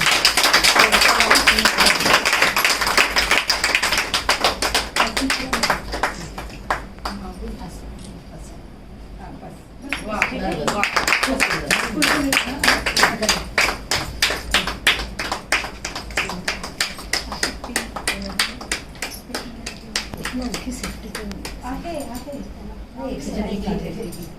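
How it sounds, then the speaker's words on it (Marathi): A crowd of people claps hard and fast for a pageant-style crowning and sash ceremony. The applause is dense and sustained, dipping briefly midway before rising again, with voices mixed under the clapping. "आपण सर्वांनी खूप जोरात टाळ्या वाजवूया."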